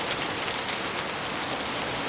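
Steady rain pours down at a bus stop in a TV drama scene, a dense continuous hiss of drops close by with no voices over it.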